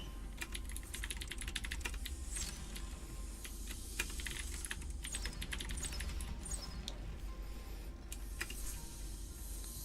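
Rapid, steady computer keyboard typing during play of the typing game Epistory, dense clicks running throughout at a constant close level with no voices.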